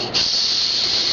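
A young child imitates a snake's hiss, a loud, close, steady breathy hiss held for about a second without a break.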